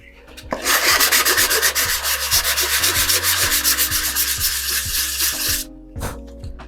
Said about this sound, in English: you can take some sandpaper and sand those down